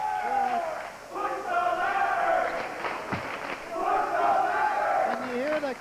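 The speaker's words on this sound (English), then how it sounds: "And you hear the crowd." A wrestling arena crowd roars and cheers continuously during a ladder match, with loud rising and falling shouts and chants layered over a steady wash of voices.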